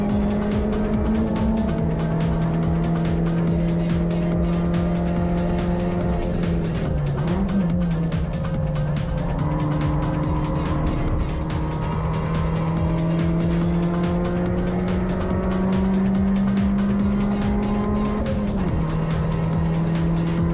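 A 750 Motor Club Roadsports race car laps Donington circuit in qualifying, its engine roaring loud and continuous from onboard, pitch sliding down and climbing again through gear changes and corners, with occasional tire noise.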